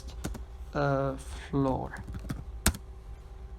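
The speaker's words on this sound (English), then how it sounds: "I can go ahead and type first" Brief computer keyboard typing at a desk, a few soft clicks around speech and one sharper key tap near the end; someone talks over most of it.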